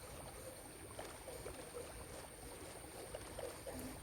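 A boat glides across water in Minecraft, a faint, continuous wash with small splashy paddling blips over a quiet steady hiss.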